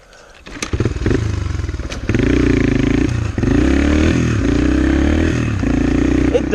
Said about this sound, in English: My fucking throttle's stuck.